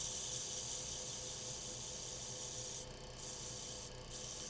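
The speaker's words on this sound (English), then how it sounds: "Give it a quick sanding." Sandpaper rubs against a spinning wooden gimbal clock part on a lathe, a steady rushing hiss that briefly softens twice as pressure eases, with no talking.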